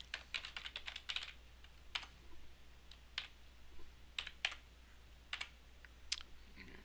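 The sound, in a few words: typing on a computer keyboard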